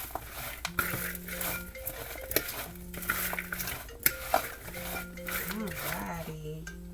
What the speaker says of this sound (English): I'm going to mix it up. Get those sprinkles all over there.